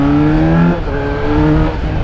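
A Yamaha XJ6 motorcycle with a cut exhaust revving hard up close: a loud, sustained, raspy engine drone that dips briefly and then climbs again, with no talking.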